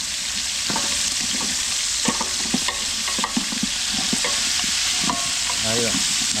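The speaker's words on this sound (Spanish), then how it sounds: "Empezamos a revolver, que se vaya cocinando y largando los sabores de la panceta." Pork belly (panceta) frying in a pot for locro while a spoon stirs it, a steady loud sizzle broken by repeated scraping and knocking strokes throughout.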